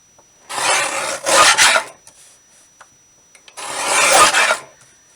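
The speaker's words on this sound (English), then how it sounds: "Let's go ahead and just use the trimmer to cut those." A paper trimmer slices cardstock tags with two close, rasping strokes of the blade. Between the cuts come faint ticks and taps of handling, and no one speaks.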